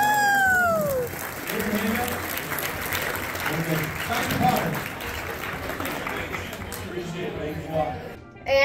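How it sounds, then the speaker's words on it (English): Round of applause from a small group, steady clapping and cheering with voices mixed in, ending abruptly. "Round of applause for the 500 bucks."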